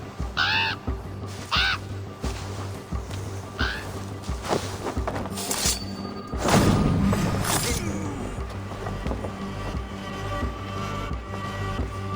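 Harsh crow caws from Assassin's Creed Valhalla, a few sharp calls early on over game ambience, then a heavy thud and rustling action sounds, with some voice underneath.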